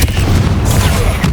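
Confringo explosive spell blast in Hogwarts Legacy, a single loud, close, booming burst filling the short moment without any speech over it.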